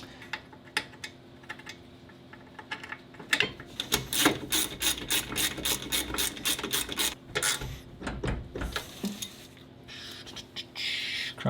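A ratchet working on seized brake caliper bolts during a Subaru STI drivetrain swap, a close, fast series of sharp metallic clicks in bursts, with quieter taps and scrapes between.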